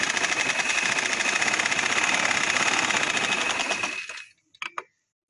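A sewing machine stitches a trouser in a steady, rapid mechanical whir for about four seconds, close and alone, then slows to a stop followed by a couple of small clicks.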